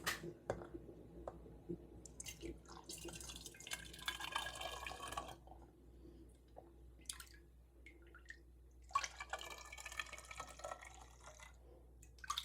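Homemade Jamaican sorrel drink is poured through a clean funnel into a bottle, making close trickling, splashing liquid sounds in uneven bursts with drips between, swelling louder in two longer stretches, with no talking.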